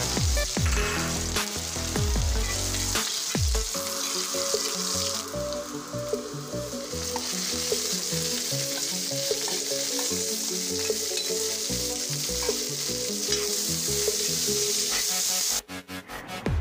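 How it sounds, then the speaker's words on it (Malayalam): Fennel seeds spluttering in hot oil in a pan while cooking beef thoran, a dense, steady crackling sizzle with scattered sharp pops and a few scraping stirs, close and loud with no talk. "പെരിഞ്ജീരകം ഇട്ടിട്ട് പൊട്ടിക്കണം"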